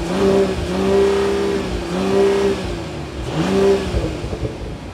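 A 2024 Mercedes-Benz CLE53 AMG coupe engine revs in several loud, close surges that rise and fall, with a raspy exhaust note and no talking.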